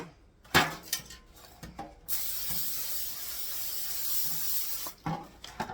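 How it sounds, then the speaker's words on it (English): A few light clicks and taps, then a sustained hissing spray of cooking spray lasting about three seconds, followed by more soft clatter. "Now the next one I'm going to spray too."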